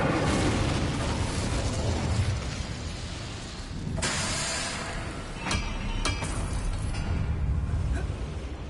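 A fire spell cast in the Hogwarts Legacy video game bursts out as a loud whooshing blast over a dense, continuous game soundscape, followed by sharper pops and crackles.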